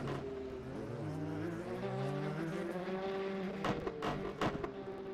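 Race car engines from an endurance racing simulator at a NOLA circuit drone steadily and loudly, with rising and falling revs, layered exhaust tones and a few sharp bursts near the end.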